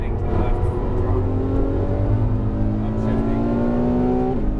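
A Ferrari F12 at full throttle on a racetrack, its engine note climbing steadily and loud from inside the car, ending with a quick upshift.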